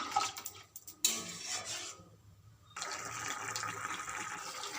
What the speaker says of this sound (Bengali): এবার দিয়ে দেবো গরম জল পরিমাণ মতো দিয়ে ঢাকা দিয়ে দেবো